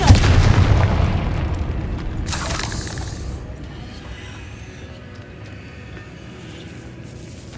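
A Confringo blasting spell goes off in Hogwarts Legacy inside a decayed catacomb: a loud booming explosion with a crackling burst, then a rumbling tail that slowly fades, with no talking.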